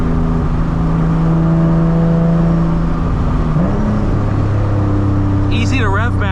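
A turbocharged 2010 Nissan 370Z Nismo heard from inside during a drive, the engine droning loudly, then its pitch jumping up briefly in a rev match, with people talking over it.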